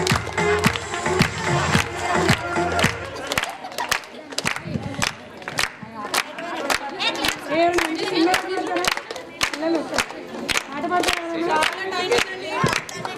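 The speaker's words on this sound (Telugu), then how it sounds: "క్లాప్స్ కొట్టండి." A crowd at a village women's day celebration claps in quick, loud, rhythmic bursts, with voices and shouts mixed in throughout.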